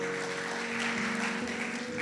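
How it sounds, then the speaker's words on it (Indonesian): A church congregation applauds during a sermon, a continuous wash of clapping held at even strength for about two seconds, with no speech over it. "Tepuk tangan dulu buat Tuhan Yesus."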